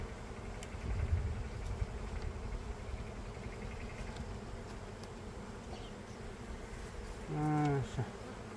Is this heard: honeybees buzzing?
yes